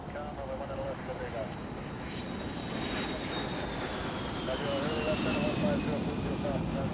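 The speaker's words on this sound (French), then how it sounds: "un autre vol Jeannette décolle en direction de Groom Lake" Janet airliner taking off toward Groom Lake, a distant steady jet roar that gradually swells, heard faintly beneath continuous talking.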